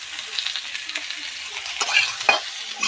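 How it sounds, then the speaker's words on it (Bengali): Jackfruit pieces sizzle steadily in a hot pan, with stirring scrapes and small crackles close by; there is no talk. "ইঁচড়গুলো এরকম ভেজে নিচ্ছি"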